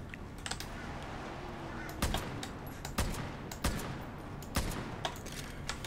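Gunfire in Far Cry New Dawn, a series of sharp, fairly quiet individual shots spaced about a second apart over low background noise.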